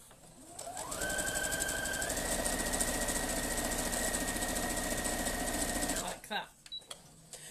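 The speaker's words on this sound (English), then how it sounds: "I'm going to stitch 1/4 inch down there" A sewing machine stitches a quarter-inch seam in fabric with a steady rapid whir and hum for about five seconds, then stops with a few small clicks. It is close and loud.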